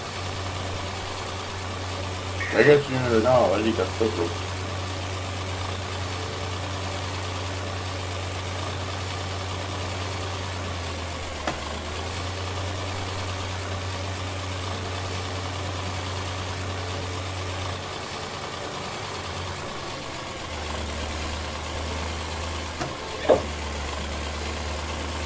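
A small John Deere tractor idles in a farming video game, a low steady engine drone running throughout with a brief dip and shift near the end, under short bursts of talk.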